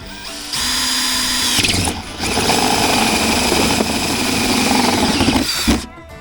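A power drill fitted with a 1.5 inch paddle bit bores a hole through a plastic bucket, whining loudly and steadily up close. It dips briefly midway, then resumes before stopping.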